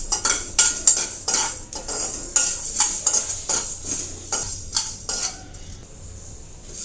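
Whole spices, cinnamon, star anise, mace, cardamom and cloves, dry roast in a pan, a close run of quick spoon scrapes and clinks against the metal over a faint hiss, easing off near the end.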